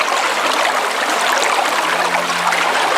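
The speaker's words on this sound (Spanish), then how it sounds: "¿Escuchas el sonido del agua?" Water from a spring feeding a fountain near a temple streams steadily, a loud, close, continuous rushing babble with no pauses and no voices.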